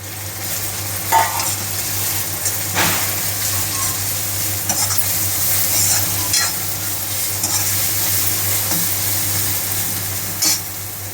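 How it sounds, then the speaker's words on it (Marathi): Ground green chili and garlic paste sizzles in a hot pan for a rustic village-style pithla, a steady close frying hiss with occasional stirring scrapes and sharper spits throughout. "बारीक वाटून घेतलेली मिरची लसूण त्यात टाकून घेणार आहे"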